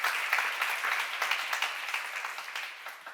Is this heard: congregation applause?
yes